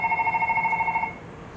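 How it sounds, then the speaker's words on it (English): A telephone rings in a short electronic trill for about a second, then stops, leaving a low background hum. "And there's the phone."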